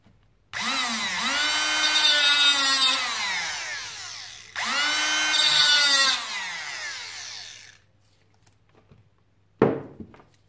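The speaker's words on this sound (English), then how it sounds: "Let's try and cut it a little bit." Power tool cutting into a Samsung 18650 lithium battery cell, two loud whining bursts with falling pitch, then quiet and a brief sharp crackle near the end.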